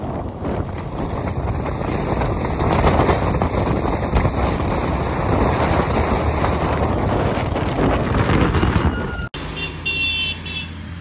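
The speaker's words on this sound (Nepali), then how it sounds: "कस्तो हावा लाग्छ यार।" Steady, loud wind rumble buffets the microphone on the Kathmandu to Pokhara road for several seconds, broadband and continuous, then briefly cuts out near the end.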